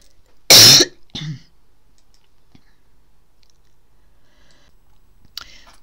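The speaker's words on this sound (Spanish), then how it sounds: "Uy, perdón que me entró un ataque de tos." One harsh, loud cough up close, then a softer second cough, followed by near silence with faint clicks.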